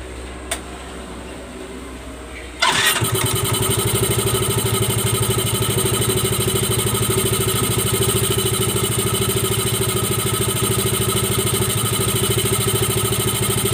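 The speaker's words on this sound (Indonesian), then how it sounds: "Oke, sekarang kita coba hidupkan mesinnya dulu." A Yamaha Mio M3 scooter with rough engine noise and throttle trouble cranks and starts abruptly, then settles into a steady, loud, close idle with a slightly clattery, even rhythm that continues to the end.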